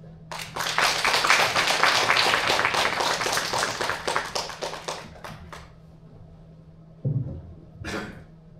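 An audience claps in welcome for a perfumer at a talk on the art of perfumery, a dense burst of applause lasting about five seconds before fading, followed by a couple of brief thumps and a short noise.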